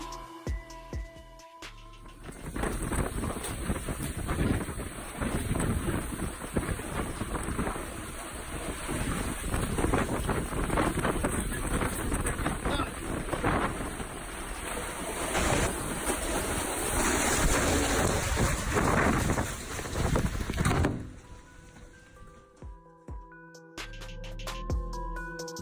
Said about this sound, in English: One local man braved the weather to record the storm from his front door.